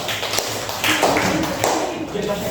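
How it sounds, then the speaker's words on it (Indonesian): A group of participants at a teachers' competition clap for another team, brisk close hand claps in uneven bursts with some voices underneath. "Tepuk tangan untuk kelompok domba."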